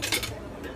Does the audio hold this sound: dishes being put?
yes